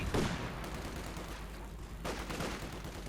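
A Flak Panzer anti-aircraft tank in Company of Heroes 2 fires a dense, continuous barrage. The gunfire is loud and crackling, with a sharp burst at the start and a renewed flurry near the end.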